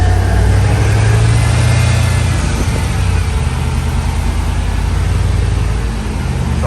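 A GMC short-bed truck engine fitted with a new supercharger runs loud and close, a deep rumbling idle that settles into an even, steady drone with no talking.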